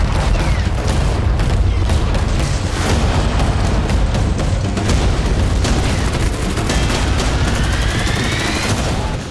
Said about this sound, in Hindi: रूसी सेना ने T-90 टैंकों से ट्रेंच में यूक्रेनी सैनिकों पर गोले दागे